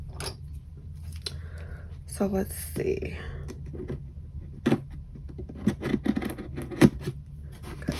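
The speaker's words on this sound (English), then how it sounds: "I am gonna need scissors" Scissors snipping and scraping through packing tape on a cardboard shipping box, a few short close crisp cuts and rustles scattered among quiet murmured speech.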